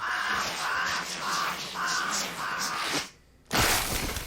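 Several crows caw in a cartoon scene, a steady series of harsh, evenly spaced calls at close range, broken by a brief near-silent pause before the sound resumes loudly.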